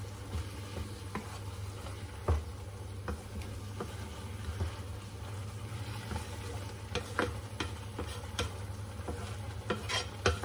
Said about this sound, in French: Et là, je rajoute la purée de tomate.